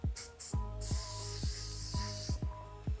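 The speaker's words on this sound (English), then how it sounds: "we're just gonna spray it on there and we're gonna apply it just like a coating" Two bursts of aerosol spray hiss as a coating is sprayed onto car paint, a short one and then a long steady one, over a rhythmic low thumping pulse.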